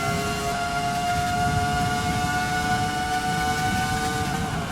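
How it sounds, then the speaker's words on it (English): A Ferrari F2004 Formula One car in a racing game at Monza screams at about 18,000 RPM, a sustained high, tonal engine whine with stacked harmonics, steady and loud with no talk over it. "Listen to the engine."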